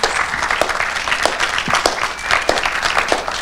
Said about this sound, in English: can we just give a really serious round of applause here